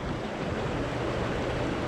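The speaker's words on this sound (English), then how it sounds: "that's pretty fast water there" Fast-flowing flood water at Danford Lake rushes past as a dense, steady roar, loud and close, with a windy wash and no voices.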